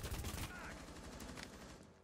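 Gunshots fired through a wall in the video game Rainbow Six Siege, a quick burst of muffled automatic fire at low level, with faint game sounds behind it.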